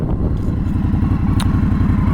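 An Indian Scout Bobber with aftermarket exhaust rumbles close and loud in a steady pulsing idle, with a brief clack partway through.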